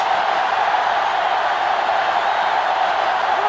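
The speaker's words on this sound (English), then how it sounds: "It's arguably the loudest crowd in the nation" Stadium crowd roaring steadily in NCAA Football 2005 during an Arkansas vs. Florida game, a dense continuous wash of noise at even loudness for the whole stretch with no clear peaks.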